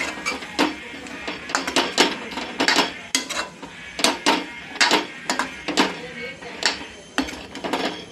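A spoon clatters against a pan while cooked cauliflower with spices is tossed up and down, giving irregular sharp metallic scrapes and clinks, close and fairly quiet.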